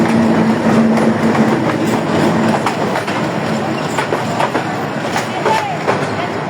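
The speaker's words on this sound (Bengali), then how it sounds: "ট্রেন মহিমাগঞ্জ ক্রস করছে মহিমাগঞ্জ স্টেশনে" A train moves through Mahimaganj railway station amid a waiting crowd, a loud steady rumble with rhythmic wheel clatter and a brief tonal squeal, close by.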